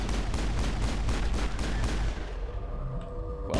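Gunfire in the science-fiction shooter Mass Effect, a dense stream of rapid, evenly spaced shots over a constant roar of combat, then the firing thins out and fades into a steady background hum.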